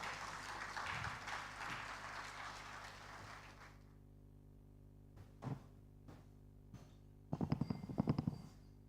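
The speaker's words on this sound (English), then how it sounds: "please give her a big round of applause" An audience at a government digital trade workshop claps to welcome a speaker on stage. The applause is moderate and steady, then fades out after about four seconds, leaving near silence broken by a few sharp thumps and knocks.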